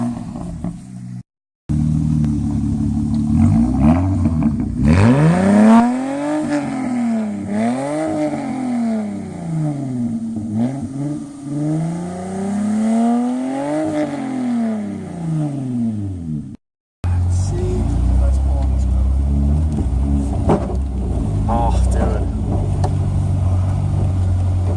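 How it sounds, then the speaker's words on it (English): Infiniti i30 with a straight-pipe exhaust driving and revving, its loud, raw engine note rising and falling through repeated throttle blips, dropping out briefly, then returning as a deep steady drone. "we're going to take his car around and Get some shots of the exhaust"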